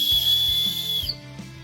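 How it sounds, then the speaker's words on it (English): A titanium survival whistle blown in a steady, piercing high tone for about a second, then cut off, with a faint rustle and knock after it. "You could just keep blowing that whistle until somebody helps you"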